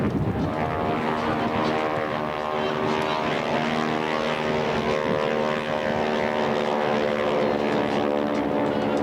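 Propeller aircraft, likely Spitfires, performing a windy flight display, a loud steady droning engine hum with layered harmonic tones and slight rises and falls as they pass overhead.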